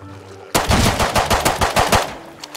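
Rapid bursts of gunfire in a survival video game, a loud sudden volley of sharp cracks following a quiet lead-in, close and dense with no voices.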